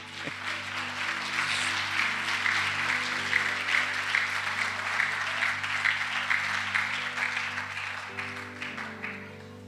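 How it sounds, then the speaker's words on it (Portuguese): A church congregation at a Sunday service applauds for Jesus, a sustained, even wash of clapping from many people while a low organ or keyboard chord holds underneath throughout. "Você pode aplaudir a Jesus?"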